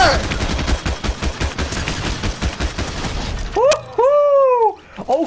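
Rapid bursts of shotgun and automatic fire from a Fortnite match crackle densely for about three and a half seconds, followed by a few tonal game effects and a final sharp shot, with a player talking over parts of it.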